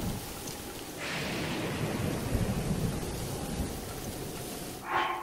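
A thunderstorm in the video game Zelda: Breath of the Wild brings steady rain hiss under a low rolling thunder rumble that swells and fades, with a brighter gust or crackle near the end and no speech.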